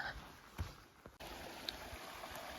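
Running water of a mountain stream near a lake on a backpacking trail, a steady broadband rush heard close by and continuous, with a few faint knocks.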